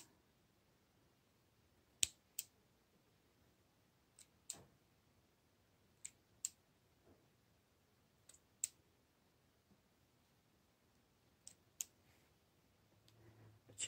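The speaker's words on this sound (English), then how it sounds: "I'll snip off these dead areas." Small scissors snipping dead bits off a tiny Erodium sprout, sharp isolated snips in a quiet room, roughly a dozen crisp clicks spaced irregularly, some in quick pairs.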